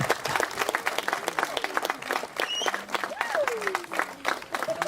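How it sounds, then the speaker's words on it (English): A gathered audience at a fiftieth anniversary event applauds, with dense, irregular clapping from many hands at moderate distance, mixed with faint crowd voices and a few whoops rising over the claps. "a little round of applause for all these people"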